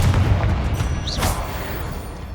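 Confringo blasting curse from Hogwarts Legacy, a deep booming rumble with a bright fizzing whoosh in the middle, loud at first and slowly tapering away, with no talking.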